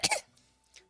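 A person gives a short double cough, two quick harsh bursts close to the microphone, followed by a faint breathy trailing sound.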